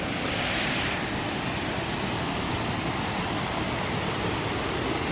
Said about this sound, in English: here's a little tiny waterfall